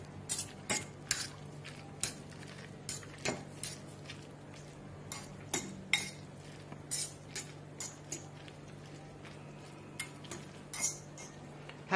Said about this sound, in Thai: แล้วก็ใช้ส้มคนอีกทีนะครับผมมันจะได้เข้ากันหน่อย